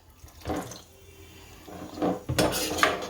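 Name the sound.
water poured into a cooking pot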